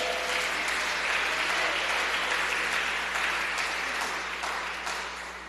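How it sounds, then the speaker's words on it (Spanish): Church congregation applauding at a Spanish-language evangelical service, a dense, steady wash of many hands clapping that fills the whole stretch and fades slightly toward the end, with no talking over it. "Regálemele un aplauso al Señor"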